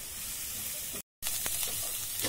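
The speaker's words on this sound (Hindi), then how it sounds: "अब उसमें दो टेबलस्पून मैदा डालेंगे। इसको दो से तीन मिनट अच्छे से भून के लेंगे।" Maida flour roasting with softened peas in a pan gives a soft, steady sizzle and hiss that cuts out briefly, then returns with faint scraping taps.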